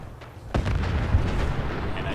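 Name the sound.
explosion, from the video game Fallout 4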